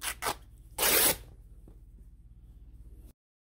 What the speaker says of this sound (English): And then we're just going to rip these.